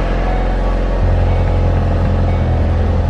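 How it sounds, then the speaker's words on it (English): A Race Red Ford Focus RS with about 10,600 miles sits at a cold-start idle, a loud, steady, low engine drone with a slight shift in tone about a second in, then a constant rumble. "Let's do a nice little cold start, even though it's super, super quiet"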